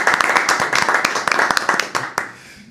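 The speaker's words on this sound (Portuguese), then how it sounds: "Hugo Wagner, uma salva de palmas." A podcast audience gives a round of applause, with many hands clapping in a quick, uneven burst that thins out and fades near the end.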